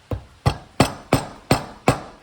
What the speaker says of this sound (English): take copper pins, nail it on